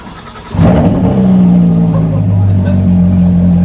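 A straight-piped Porsche GT3 RS fitted with megaphone exhaust tips barks into a loud rev after a brief quieter moment, then holds a sustained, droning high-rpm exhaust note close by.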